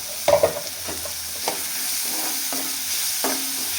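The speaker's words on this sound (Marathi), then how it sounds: "कांदा आहे ना तो आपल्याला छान ब्राऊन कलरचा तुमच्याकडे परतून घ्यायचा आहे" Onions sautéing to a brown colour in a pan for a spicy bitter gourd masala dish, a steady close sizzle broken by several scraping stirs of a spatula, with no talk.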